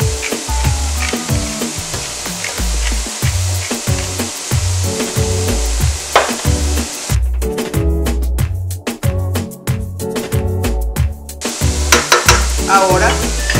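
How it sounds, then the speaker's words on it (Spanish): Cauliflower sautés in oil in a pan, a steady sizzle broken by repeated scraping and stirring strokes of a utensil, close and fairly loud throughout. "Echamos el coliflor, como por 2 o 3 minutos lo salteamos aquí."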